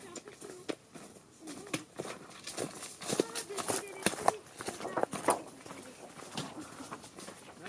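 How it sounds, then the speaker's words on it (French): Horse hooves clip-clop in an irregular rhythm on a walking path outdoors, moderately near, while people talk over them and birds call faintly. "Non mais c'est des pieds de cheval, c'est peut-être là qui sont."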